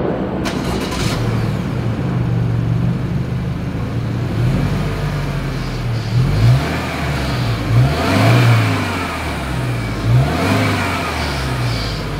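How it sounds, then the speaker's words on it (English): A 2022 Subaru Outback engine idles with a deep exhaust rumble, then revs up several times in short bursts, loud and close. "As always, here is that exhaust clip."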